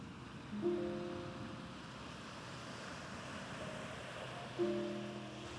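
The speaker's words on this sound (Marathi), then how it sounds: "समुद्राच्या लाटा खडकांवर आदळत होत्या" Sea waves wash against rocks at small, rocky Shekadi beach on the Konkan coast, a steady low surf roar with wind, crossed by two brief tonal beeps.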